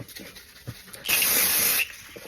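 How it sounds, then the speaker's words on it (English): A single short burst of matte makeup setting spray hisses for under a second, close and loud, between quiet background sounds. "I spray matte on it so the matte dries up the gloss"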